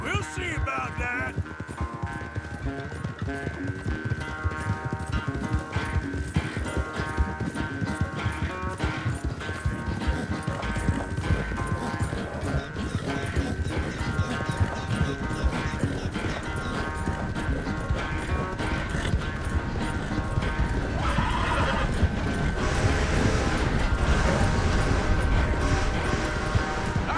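A horse's hooves clip-clop steadily at a gallop in Red Dead Redemption 2, with an occasional whinny, all beneath a constant dense layer of game music and ambience that runs for the whole stretch.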